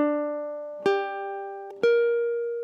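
Opening of a film theme, played on ukulele: three clear plucked notes in a slow waltz rhythm, each ringing until the next, close and alone.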